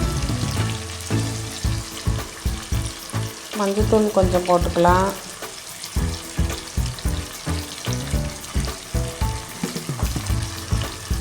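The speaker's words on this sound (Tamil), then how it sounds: "தக்காளி நல்லா வதங்கிட்டு இப்போ வந்து நல்லா கிளறி விட்டுக்கணும்" Steady sizzling from a hot frying pan as a spoon scrapes and stirs sautéed tomatoes in quick strokes, while a person talks over the cooking.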